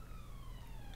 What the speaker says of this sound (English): Excuse the siren noises.